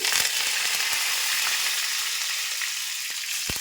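Chana dal, urad dal and curry leaves sizzle and fry in hot oil in a pan for shavige uppittu, a steady loud crackling hiss throughout with a few faint utensil taps, no voices.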